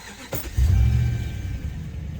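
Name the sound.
2010 Ram 1500 Hemi engine starting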